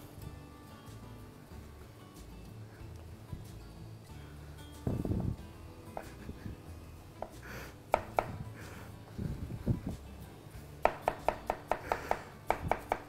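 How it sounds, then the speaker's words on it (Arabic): A kitchen knife julienne-cuts cucumber on a board nearby, starting with scattered single chops, then breaking into quick rhythmic runs of sharp taps near the end. "نبدي اليوم راح نسوي التقطيع مالته يكون جوليان"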